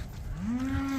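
A large cow in a barn lets out a single long, loud moo that rises and holds steady before dropping off at the end, with no talking over it.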